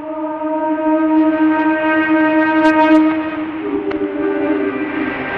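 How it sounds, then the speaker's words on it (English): Republic of China (Taiwan) national anthem broadcast by Radio Taiwan International on 9405 kHz shortwave: sustained tonal music with steady held notes, heard through a continuous hiss of radio noise, fairly loud and unaccompanied by speech. "The national anthem, as you can hear it now in the background, was officially adopted in"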